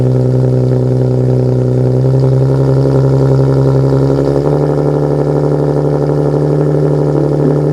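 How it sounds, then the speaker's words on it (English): A Nissan 370Z engine on a cold start, settling into a loud, steady idle with a constant low drone and a slight shift in pitch partway through, heard close up with no talk. "So I'm gonna give you guys a quick cold start"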